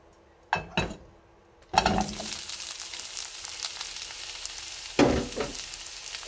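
Kabocha pumpkin stir-fried in a pan for a sweet cabbage curry: a couple of clinks of pan and utensil first, then sizzling that bursts up and settles into a steady hiss, with another surge of stirring later.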